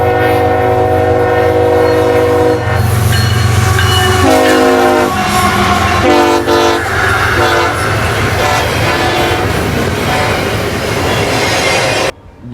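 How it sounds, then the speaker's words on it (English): CSX locomotive 3064 leads a westbound intermodal train, sounding its horn loudly and close in several blasts of changing length over the rumble and clatter of passing cars and squealing wheels, and the sound cuts off sharply at the end. "Back on CSX 3064 leads a westbound intermodal."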